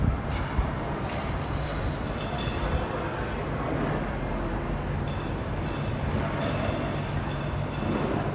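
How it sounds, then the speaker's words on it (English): Loud, rumbling ambience at St Pancras International station with Eurostar trains idling and rolling, a broad continuous roar with faint mechanical clatter throughout. "St Panc Station, and there's the Eurostar trains ready to go."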